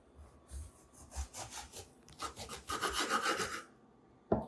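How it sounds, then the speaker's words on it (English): A knife saws through a French baguette on the diagonal, close up, with several rasping back-and-forth strokes across the crust, building to a denser, louder run before a final sharp knock. "French baguette that we're going to slice on the diagonal"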